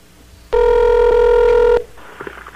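A telephone line tone on a prank call: a single loud, steady electronic ring tone with a pure pitch and harmonics, holding for just over a second before cutting off to quiet line noise and faint sounds.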